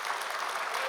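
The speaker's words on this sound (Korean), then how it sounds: "우리 오늘 할렐루야 찬양대 한번 크게 한번 박수 한번 하겠습니다." A church congregation applauds its choir after a worship song, steady close clapping filling the whole second without a break.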